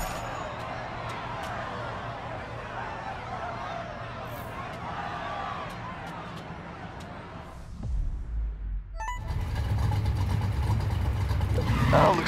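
Car engine in the Need for Speed Heat racing game, a steady drone that swells as the car revs and accelerates, growing louder and rougher toward the end.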